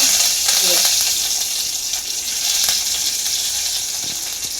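Mustard seeds and cumin sizzle in hot oil as a tempering for Malvani-style colocasia leaf curry, a steady, loud frying hiss that runs the whole time with no one speaking.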